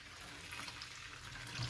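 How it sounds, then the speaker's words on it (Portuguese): Warm water pours steadily into a container to clean a sports air filter, a soft continuous splashing stream heard alone and close. "Vou adicionar água morna, que é importante nesse processo."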